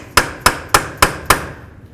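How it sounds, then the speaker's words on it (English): Five evenly spaced hammer blows ring out on a metal punch, freeing the axle from the wheel bearing of a 1998-2002 Honda Accord, each a sharp metallic clank in a steady rhythm, then quiet. "Use a hammer and a punch, break your axle free from the bearing."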